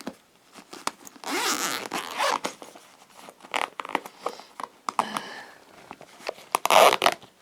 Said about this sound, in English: The zip's knackered on it.